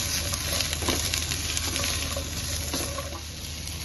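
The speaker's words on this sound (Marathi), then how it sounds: "आता आपण भाजी परतवून घेऊया" Vegetables including ridge gourd and pumpkin stir-fried in a pan for a traditional Rishi Panchami bhaji, a steady close sizzle with scraping stirring strokes throughout and no talk.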